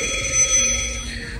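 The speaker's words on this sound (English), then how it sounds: "I hear a phone ringing, but I don't see it" A telephone rings inside a retail store, a steady bright electronic trill heard close and fairly loud over low shop background murmur.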